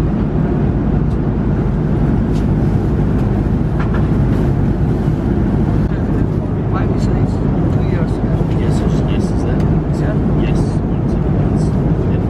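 Steady, loud airplane cabin roar during a flight, a dense continuous drone with no breaks or change over the whole stretch.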